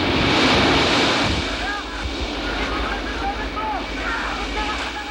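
Heavy sea waves surge and crash beside a breakwater during a storm rescue from a ship in danger of sinking, with gusting wind blowing across the microphone in a constant loud roar.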